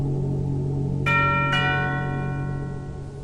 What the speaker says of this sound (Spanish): le tocaron el timbre